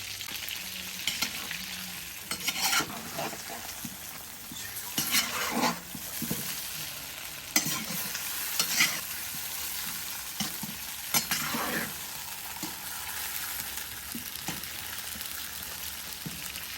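Onions frying and stirred in a kazan alongside vegetables for fried quail, a steady close sizzle with repeated scraping stirs and occasional utensil clinks.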